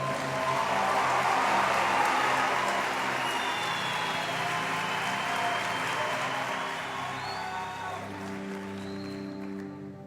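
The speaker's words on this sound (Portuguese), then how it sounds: "Então vamos dar uma salva de palmas, Romana." Applause from a church audience, steady broadband clapping for about eight seconds that fades toward the end, with low tonal hum and faint voices underneath.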